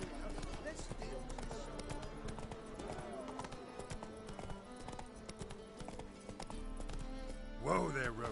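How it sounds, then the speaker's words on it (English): Roach the horse gallops in The Witcher 3: Wild Hunt, a steady run of clip-clopping hooves under continuous game dialogue and music, with a short louder burst near the end. "Whoa there, Roach."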